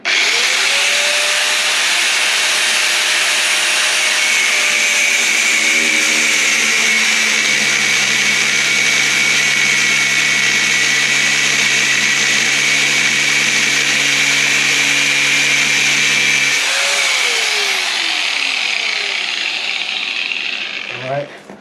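A loud, close power tool whines steadily as a spinning disc grinds and cuts, its pitch dipping under load before spinning down at the end.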